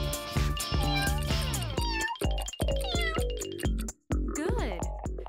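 A cat meows repeatedly in a cartoon scene, each bright meow sitting over busy, tinkly background music with chimes, with a brief drop into silence before the next call.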